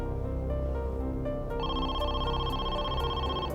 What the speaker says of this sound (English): At 9 p.m., Donnell's sister received a phone call.